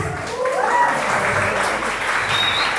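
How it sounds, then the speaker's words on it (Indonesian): An audience applauds for Kompas, the Indonesian media outlet, at an event marking its anniversary: steady, dense clapping from many hands fills the room and continues evenly throughout, with faint voices beneath. "Tepuk tangan dulu dong buat Kompas."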